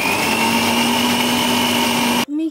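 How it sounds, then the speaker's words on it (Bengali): A kitchen mixer grinder whirs steadily at high speed while grinding spices, with a loud even motor whine that cuts off abruptly near the end. "মিক্সারে মশলা বাটলেই হয়ে যায়"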